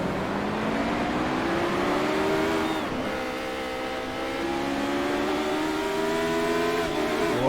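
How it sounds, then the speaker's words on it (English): Simulated Radical race cars in iRacing rev and drone through a corner, several engine notes overlapping and rising and falling in pitch under a continuous, moderately loud roar. "Cars go all over the place."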